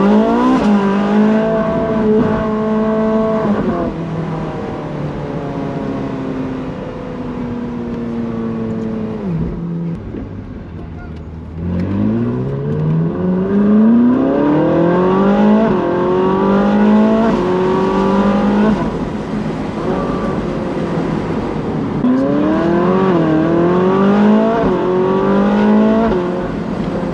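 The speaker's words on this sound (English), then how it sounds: "pulled in there just to let a few cars go past" Several supercars pass one after another on Cotswolds roads, engines rising and falling in pitch as they accelerate nearby, loud and continuous.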